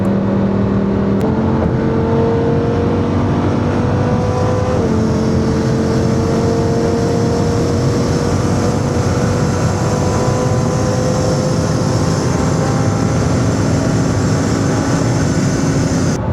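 A Lamborghini Huracán supercar with VOS Performance tuning driven fast on a race track: a loud, continuous engine drone that changes pitch with gear shifts early on, then pulls steadily higher without a break.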